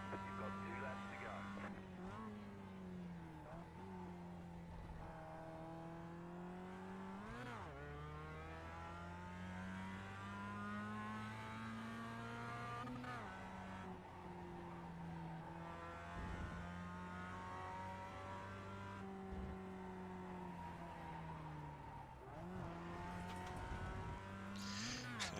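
Race car engine in the iRacing sim game, revving and climbing through the gears with repeated sharp pitch drops at each shift, a loud continuous whine from close up, with a voice talking over it.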